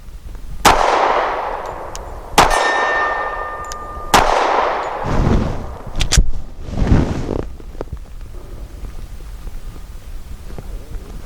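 Sharp gunshots from a Rock Island 3.1-inch double-stack .45 pistol: about five loud close shots at irregular intervals with ringing tails, ending in quieter handling clatter and a few faint clicks.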